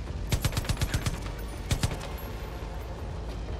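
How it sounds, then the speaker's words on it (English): Ammo cache blowing up in the video game Far Cry 5, heard as a quick burst of sharp cracking pops in a fast rhythm, then a second shorter cluster of bangs, over a steady rumbling background. "Why did you blow up the ammo?"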